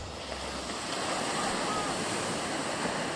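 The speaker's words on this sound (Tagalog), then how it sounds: "white sand beach na may kalmadong alon naman" Calm waves on a white sand beach in Casiguran, Aurora, give a steady, broad wash of surf with some wind rumble at the mic, heard alone with no talk.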